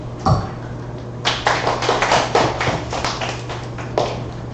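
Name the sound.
host clapping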